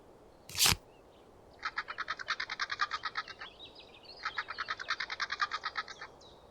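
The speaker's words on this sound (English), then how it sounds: "The yellowhammer's song influenced works by Robert Burns and Beethoven." A yellowhammer's song as played in the video game Wingspan: a rapid series of bright, repeated chirps delivered twice, each run lasting about two seconds, clear and close, with no talk; a sharp click comes just before the first run.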